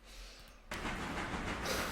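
Steam train in the Railroader video game, a steady rumbling hiss of the locomotive running down the rails that starts abruptly after a brief quiet moment and continues loud and close with no talking.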